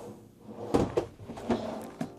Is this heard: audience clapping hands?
no